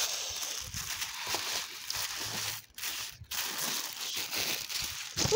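Fragrance gift box for Adidas Pure Game body fragrance and aftershave being opened, with packaging crinkling and rustling steadily at close range, briefly pausing twice, with no talk.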